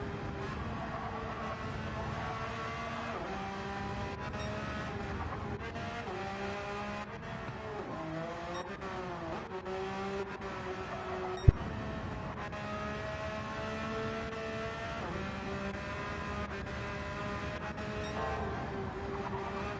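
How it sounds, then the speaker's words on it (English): Rally car at racing speed, engine harmonics rising and falling continuously as it is thrashed through corners and over a straight, loud and close with no talk, one sharp knock near the middle. "As Mia Skinner goes absolutely hurtling up and down over this straight, he's going to be absolutely thrashing this car around every single corner"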